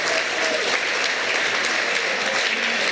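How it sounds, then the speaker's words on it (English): A round of applause at a mayor's reception and chamber member awards ceremony in December 2021; a sustained, even wall of clapping from a sizable crowd, close and loud from start to finish. "a big round of applause for Joyce"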